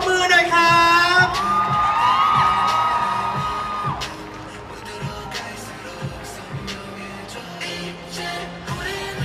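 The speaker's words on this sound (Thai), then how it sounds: "ขอเสียงปรบมือหน่อยครับ" Crowd at a Bangkok press conference for BamBam's world tour encore whoops and cheers loudly as a guest comes on stage to present flowers, the noise peaking early then settling into a lower crowd murmur with scattered shouts.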